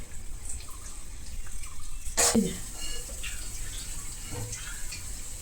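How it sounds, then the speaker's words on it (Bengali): Greens and fish are washed by hand in water, with soft splashing and trickling, a sharp clatter and splash partway through, and faint movement in the background. "শাক আর মাছ দুটোই ধুতে সময় লাগে"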